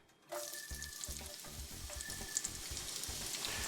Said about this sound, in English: I'm going to go ahead and just fry that off in the bacon grease